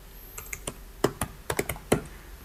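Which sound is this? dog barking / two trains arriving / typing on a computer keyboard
typing on a computer keyboard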